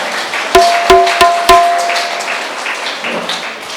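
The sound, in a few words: audience applause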